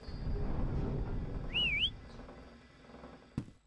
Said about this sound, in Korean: 오케이 우리 휘파람 부르면